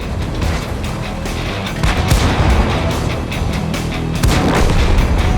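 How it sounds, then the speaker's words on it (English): Dense, continuous artillery fire and explosions rumble loudly through a tank battle video game, with repeated booms layered over each other and no pauses. "Enemy artillery tries to avenge the fallen, but doesn't come anywhere close."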